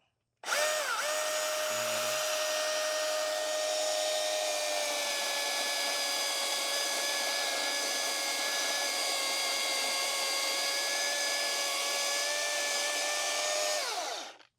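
A Milwaukee M18 FUEL cordless 16-inch chainsaw spins up and cuts steadily through wood, holding a loud, even whine for about thirteen seconds before winding down at the end.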